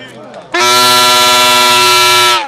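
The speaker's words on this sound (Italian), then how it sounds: "Sentiamo la trombetta se funziona." After a brief murmur, a loud, blaring horn sounds in one sustained blast lasting nearly two seconds before cutting off, tested at the Giro d'Italia.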